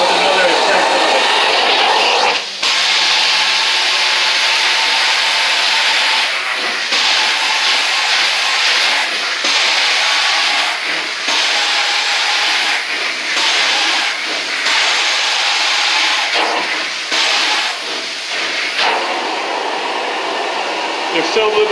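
A carpet-cleaning extractor rinses slime out of a Berber carpet, giving a loud, constant rushing hiss of water and suction with brief dips as the wand is lifted and moved.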